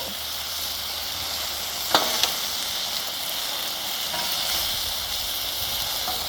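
Shrimp lo mein fries on a Blackstone griddle with a steady, loud, broad sizzle, broken by a couple of brief scraping ticks near the start, and no talking.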